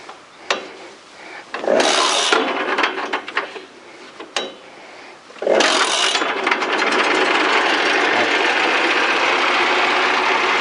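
A walk-behind tractor engine is cranked with a couple of rough bursts, then catches and settles into a loud, steady idle close by.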